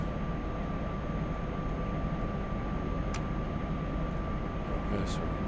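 A train braking in the Train Sim World video game, a steady low rumble and hiss of the moving train under full-service braking, with a couple of brief high squeals near the end.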